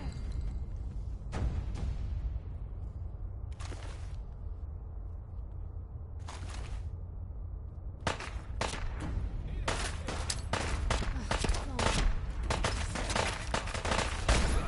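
Rapid gunfire from a PS4 shooter game crackles in dense bursts, with sparse shots early that swell into near-continuous volleys of loud, close reports toward the end, a voice faintly present in the mix.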